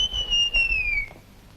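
Someone whistles a single long, clear note at night, held steady and then sliding slightly down before it stops, fairly near and alone.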